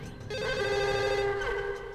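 In the video game Max Payne, a telephone rings with a steady electronic trill, one continuous ring lasting about a second and a half, loud and close with no talk.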